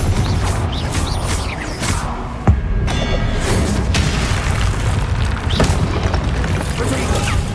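Spell-casting explosions from the Confringo fire spell in Hogwarts Legacy, a loud booming blast standing out over continuous game combat noise, music and other effects, with further impacts scattered throughout.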